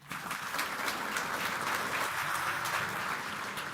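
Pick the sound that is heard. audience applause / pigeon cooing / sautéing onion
audience applause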